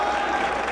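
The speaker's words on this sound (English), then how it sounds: "listen to this crowd" A crowd at a six-man professional wrestling match cheers and applauds in a dense, steady roar of clapping and voices that fills the whole short moment without a break.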